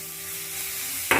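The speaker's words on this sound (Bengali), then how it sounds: "এবার এর মধ্যে দিয়ে দেবো টমেটো কুচি" Chopped tomato hitting a hot pan of frying onions for restaurant-style palak paneer: a steady, soft sizzle that swells into a sudden louder hiss at the very end as the tomato goes in.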